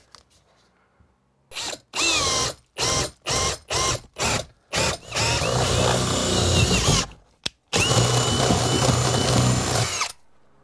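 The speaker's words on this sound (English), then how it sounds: "I just want to line it up and try and drill the hole in the same place" A power drill bores a hole through framing for rough-in electrical wiring during a bedroom remodel: about seven short, close bursts in quick succession, then two long sustained runs separated by a brief pause, with no talking.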